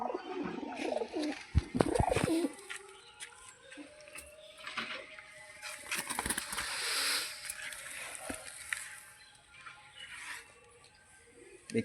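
Domestic pigeons coo in short soft bursts among fluttering and scratching noises, set against steady background hiss, with a louder rustle early on.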